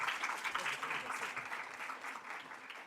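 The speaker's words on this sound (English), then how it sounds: "Let's give a round of applause." A crowd applauds steadily at a school district sports awards ceremony, a dense, continuous patter of many hands filling the hall for about three seconds with no pause.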